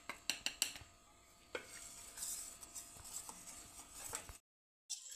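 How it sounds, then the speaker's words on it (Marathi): Gram flour being mixed into buttermilk in a bowl for Gujarati kadhi, with quick clinking utensil taps at first, then softer scraping strokes that stop for a moment before starting again. "ताकामध्ये आपण बेसन पीठ टाकून घ्यायचं आहे आणि व्यवस्थित असं मिक्स करून घ्यायचं आहे सर्व."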